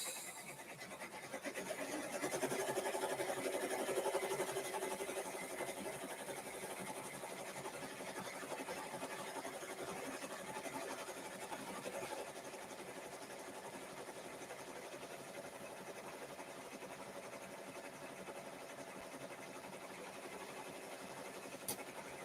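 Embroidery machine stitching out designs, a faint continuous mechanical whirring and rasping hum that swells slightly early on and then holds steady throughout, with no talking.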